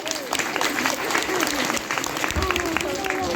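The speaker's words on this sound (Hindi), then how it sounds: "एक बार आप सबके लिए जोरदार ताली।" Audience at a Bhagavat Katha religious discourse gives loud, sustained applause, a dense crowd of clapping hands filling the hall without pause.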